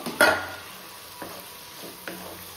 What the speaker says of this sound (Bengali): এবার দেব হচ্ছে সয়াবিন গুলো।